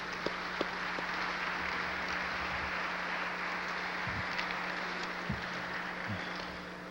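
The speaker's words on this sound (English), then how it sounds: "I think he deserves a round of applause for that" Sustained applause from a seated crowd at a 25-year dinner celebration, a steady dense wash of clapping that runs throughout with a few sharper individual claps standing out.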